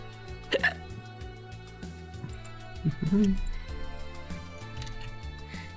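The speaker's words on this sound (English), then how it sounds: "Got some crazy hiccups." Several sharp, abrupt hiccups break out at irregular intervals from a person at a desk, each a short, loud catch against a quiet room with a steady low hum.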